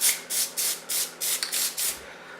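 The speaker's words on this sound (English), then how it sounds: "I'm going to spray just a light pattern of PLASTIDIP on this right here" Seven short aerosol spray bursts of Plasti Dip hiss in a steady rhythm, each about a quarter second long and close by.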